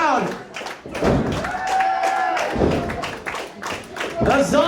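Crowd at an independent pro wrestling match clapping in rhythmic bursts and cheering, loud and sustained, with a commentator's voice running over the noise.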